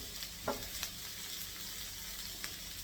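Onions frying in a non-stick pan give a soft, steady sizzle, faint and close, with a couple of light spoon taps against the pan.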